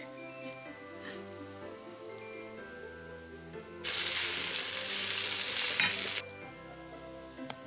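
A pan of vegetables including leeks sizzles loudly for a couple of seconds, a bright, dense frying hiss standing out over quiet background music before it suddenly stops.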